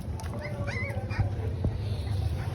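Young puppies whimper and yip in thin, high cries over a low rumbling background, several short whines coming close together in a brief stretch.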